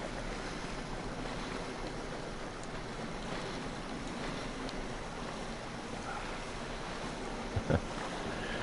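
Ocean surf washes onto a beach in GTA Online as a steady broadband rush with wind, and a couple of faint taps come near the end.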